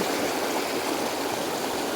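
A strong river current rushes steadily in a place where people bathe, a continuous loud wash of water filling the whole moment with no voices.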